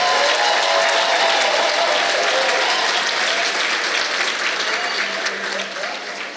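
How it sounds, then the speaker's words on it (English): Sustained, dense applause from an audience at a Teachers of the Year celebration for Hampton City Schools, loud and steady throughout, with a slight fade near the end. "So let's give them all one more round of applause."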